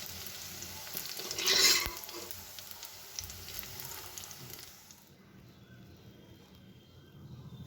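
Soybeans fry in a pan, a soft steady sizzle with stirring scrapes and one brief louder hiss early on, settling into quieter low crackling.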